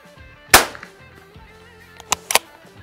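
A single sharp rifle report from a Tactical Solutions carbine, the last cartridge in the magazine, cracks loud and close, followed by two quicker, fainter impacts or clicks a moment later.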